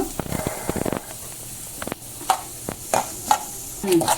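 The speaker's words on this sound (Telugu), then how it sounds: "ఇగో ఈ చిటాపటా ఉంటున్నాయి." Curry leaves sputter and crackle in hot oil while tempering for a cucumber chutney, with bursts of sizzling pops over a low hiss, close by.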